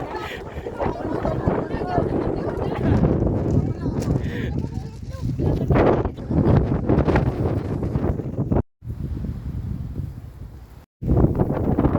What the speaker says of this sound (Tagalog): Guys, ang lakas ng hangin.